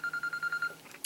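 A phone sounds a run of about seven short, evenly spaced electronic beeps, fairly loud and close, then breaks off into quiet room noise with no talk over it.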